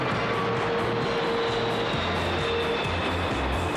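A fixed-wing airplane drones steadily overhead in a film scene, a continuous loud engine roar with no talk over it.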